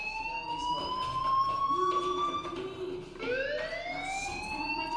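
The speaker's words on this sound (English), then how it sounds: "Hey, do you hear that fire alarm?" A fire alarm blares in the video game Life Is Strange, a loud, steady electronic siren with wavering, rising tones that goes on without a break and plays alone with no talking.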